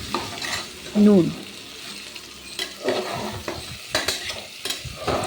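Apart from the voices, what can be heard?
potatoes and tomatoes frying and being stirred in pan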